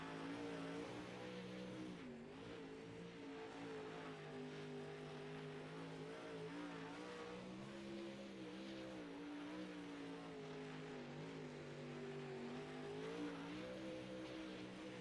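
A race car engine in the iRacing dirt-tour game holds a constant high, buzzing drone on a qualifying hot lap, pitch rising and dipping through corners with occasional tyre slide, loud and continuous without voices.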